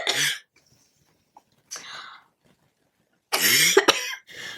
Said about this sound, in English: I also have a lingering cough from the flu